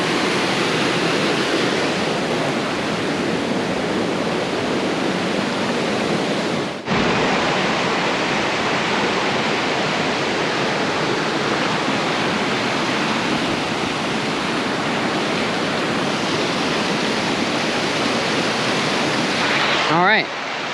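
Multnomah Falls, Oregon's tallest waterfall, roars as a dense, unbroken wash of falling water, loud and close, with a brief dip partway through and wind buffeting near the end.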